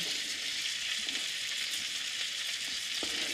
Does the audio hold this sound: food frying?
yes